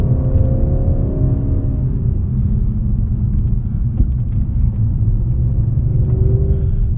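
Engine of a modified 2015 Audi S6 pulling at low revs, a deep continuous rumble and drone heard from inside the car, steady and loud throughout with a faint higher whine.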